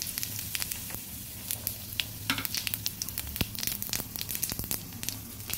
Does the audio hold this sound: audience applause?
no